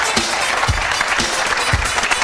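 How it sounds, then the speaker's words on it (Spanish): A studio audience claps loudly for journalists Arsenio and Ignacio Escolar on the talk show Somos Así, a continuous close roar of applause with a few heavier thumps poking through. "pido un fuerte aplauso como los que dais los de Santoyo"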